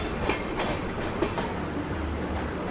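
The Rajdhani Express rolls into Kalyan Junction railway station, a steady near rumble of carriages with rhythmic wheel clicks and a faint high whine throughout.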